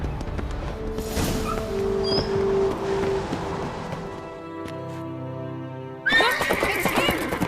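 A horse neighs and whinnies in The Witcher 3: Wild Hunt, amid game sound effects and background noise, followed by a sudden burst of louder clatter near the end.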